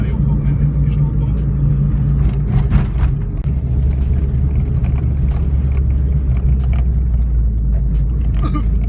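Small Renault car engine running rough on three of its four cylinders, a steady low droning rumble heard from inside the car while people talk over it throughout.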